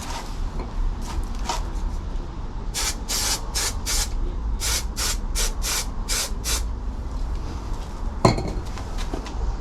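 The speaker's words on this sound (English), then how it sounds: "I'll give them a bit of a spray with glue." Repeated short hissing bursts from a spray can of glue, about eight quick sprays in a row onto MGB GT seat foam, close by, with a sharp clink near the end.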